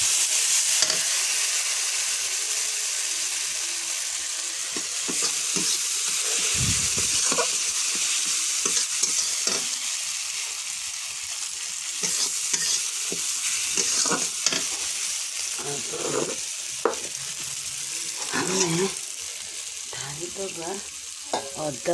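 Spices with a little chili powder fry in a pan, a steady sizzling hiss broken by frequent scraping stirs and clinks near the mic, with no voices present.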